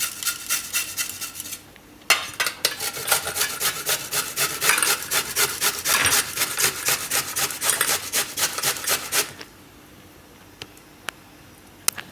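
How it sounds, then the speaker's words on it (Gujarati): Peeled potatoes are grated by hand for a Gujarati vegetable dish, giving steady rhythmic rasping scrapes with a brief pause, close and alone. "તો બટેટા આપણે છાલ કાઢી લીધી છે, તેને આપણે છીણવાના છે."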